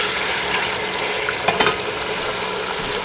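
Chicken shorba masala with kasuri methi sizzling and frying in a pan, a steady crackling hiss with a few scraping stirs midway, close and fairly loud, no talking.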